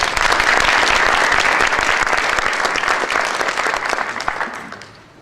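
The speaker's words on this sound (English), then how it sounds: "a big round of applause for all of these people" Audience applause for junior volunteers at a Republic Day panel discussion: a large crowd claps loudly and densely, then gradually thins and fades away at the end.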